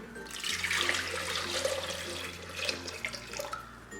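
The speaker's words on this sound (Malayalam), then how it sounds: "മുട്ട നികക്കെ വെള്ളം ഒഴിച്ചു കൊടുക്കാം." Water poured from a vessel over eggs sitting in a pressure cooker, a steady splashing stream near the mic that briefly eases then continues.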